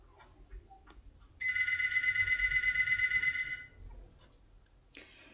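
A telephone rings in one continuous, steady burst of about two seconds. It is close and clear against a quiet room, with no talking.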